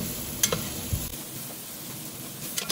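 Onion tossed into a hot pan used for browning oxtails crackles and hisses steadily, with a few quick scraping and stirring clicks, close and fairly loud.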